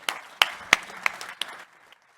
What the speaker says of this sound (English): another round of applause for Abhitesh Singh for persistence